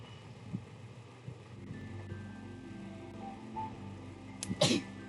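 A single short sneeze bursts out near the end, sharp and close, following a stretch of quiet background hum with faint tonal sounds from a Sims game.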